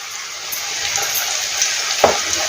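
Onion pakodas sizzle in hot oil, a continuous bright crackle close by, punctuated by a few soft clinks and a sharper tap near the end as they are stirred.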